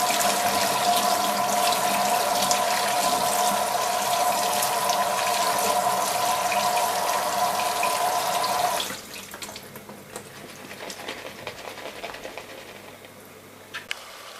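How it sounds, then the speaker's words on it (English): Cold tap water rushes steadily over a drained can of red kidney beans for about nine seconds, then the tap shuts off, leaving quieter drips and light clatter in a kitchen sink. "I'm going to give that a quick rinse with cold water"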